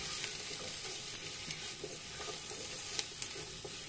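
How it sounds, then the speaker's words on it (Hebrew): Food fries and sizzles in a pan with turmeric as it is stirred, a constant bright hiss broken by soft scraping strokes of the utensil, close and continuous. "שוב מערבבת"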